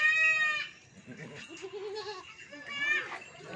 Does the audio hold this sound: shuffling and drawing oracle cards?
no